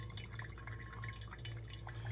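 Brew water drips and trickles through coffee grounds during a pour-over, roughly 200 grams in total, a quiet steady patter of small drops with no talking.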